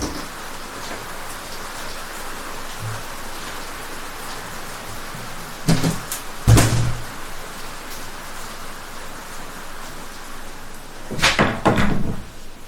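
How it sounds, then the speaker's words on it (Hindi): A door is shut during heavy rain, giving a couple of loud, sharp thuds and rattles over a steady rain hiss, followed later by another burst of knocking. "जस्ट ए मिनट, ये डोर को बंद कर देते हैं,"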